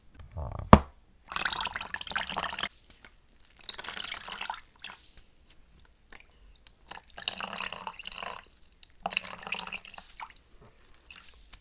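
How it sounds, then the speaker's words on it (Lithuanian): A wet sponge is squeezed and wrung out in bursts of splashing, trickling water separated by quiet gaps, with a sharp knock near the start, close and intimate. "su kempine vandeniu ir nugręžt kempinę"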